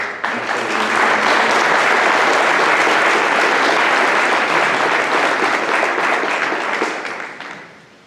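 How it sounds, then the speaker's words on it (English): Sustained applause from an audience at a high school award night, a dense wash of many clapping hands that holds steady for several seconds and then fades away near the end, with no speech over it. "can I please have a round of applause for Ms. Porter?"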